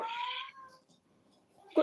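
A pet cat meows indoors, one drawn-out cry fairly near and quiet, followed by a short sharper sound at the end.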